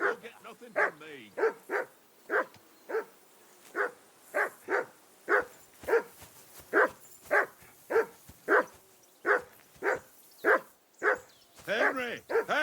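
Dog in Kingdom Come Deliverance 2 barking in a steady run of about twenty loud, close barks, with speech heard faintly around them.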